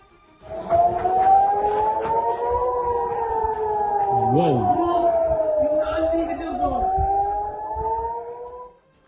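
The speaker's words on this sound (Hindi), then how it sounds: "हमले से पहले तेज आवाज में सायरन बजे, फिर धमाका हो गया" A loud, wailing air raid siren rises and falls in long sustained tones in Tel Aviv before a strike, with a voice briefly audible underneath partway through.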